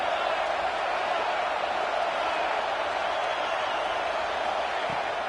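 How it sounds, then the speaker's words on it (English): A stadium crowd roars steadily in an NCAA college football video game, a dense, even wash of cheering that holds at constant loudness throughout. "This crowd knows this defense needs them right now."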